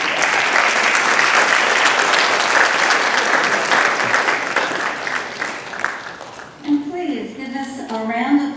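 Concert audience applauding the trumpet section at a Gold Coast band concert, loud sustained clapping for about six seconds that fades out, followed by a voice speaking briefly at the end.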